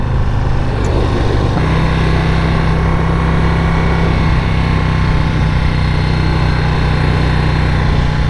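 A 2021 Harley-Davidson Road Glide CVO motorcycle engine runs close by in a steady, loud idle rumble, deepening slightly after a brief shift early on, with no talking.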